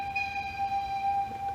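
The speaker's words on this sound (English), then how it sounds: "As you guys just heard, the train is now coming" An approaching miniature railway train at Wheaton Regional Park holds a clear, steady whistle-like tone at moderate distance, with no talking.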